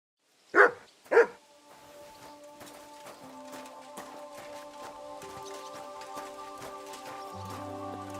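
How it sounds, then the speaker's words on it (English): A dog in the video game Kingdom Come: Deliverance II gives two loud, close barks, followed by quieter ambient game sounds and sustained musical tones. "You silly doggy."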